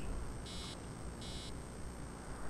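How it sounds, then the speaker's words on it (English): Two short electronic beeps from the video game Assassin's Creed Origins, evenly spaced and steady in pitch, sounding over a constant low background hum with no talking. "Beep, beep."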